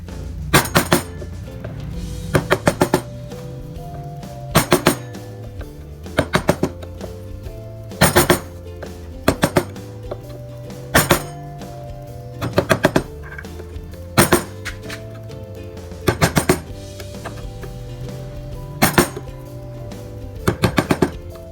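Wood carving with a scoring chisel on ornament patterns, heard as short clustered bursts of sharp tapping and clinking strikes repeating every couple of seconds, fairly close and loud, with a low steady hum underneath and no talk.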